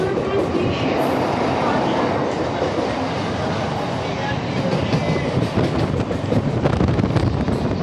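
A Howrah–Bardhaman chord line local train runs at speed, giving a continuous loud rumble with rattling wheels and wind buffeting around the microphone; talk can be heard under the noise.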